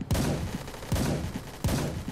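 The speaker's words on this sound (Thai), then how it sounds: "ฮัมวี่มีคนใช้ปืนกลอ่ะ" Repeated bursts of machine gun fire from a Humvee in the video game Blackhawk Rescue Mission 5, three loud volleys spaced evenly close by, with no talking.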